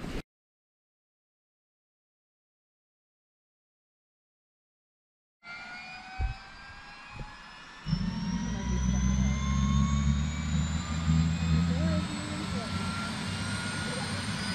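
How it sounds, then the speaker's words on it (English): A rescue helicopter's engine and rotor roar starts after several seconds of silence, a steady loud drone with rising turbine whine and deep thumping underneath. "This is Kim trying to get her first helicopter ride."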